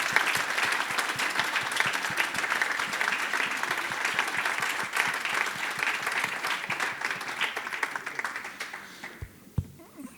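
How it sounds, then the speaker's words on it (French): An audience in a lecture hall claps for a speaker, a sustained, dense wash of applause that holds steady for several seconds and then tapers off into a few final claps. "Je pense qu'on peut t'applaudir."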